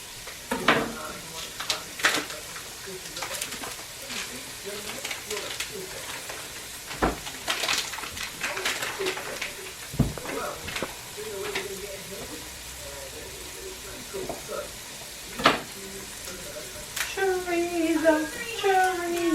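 Chorizo sizzles softly in a pan while a spoon scrapes and clinks intermittently, with a few sharper knocks; a person talks quietly over the cooking at times.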